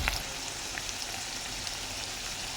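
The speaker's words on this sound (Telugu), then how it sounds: "మెంతులు అనేది వేసేస్తున్నాను." Fenugreek seeds hit hot cooking oil with a soft, steady frying hiss and a few faint pops, and the sizzle holds evenly at a moderate level with no talk.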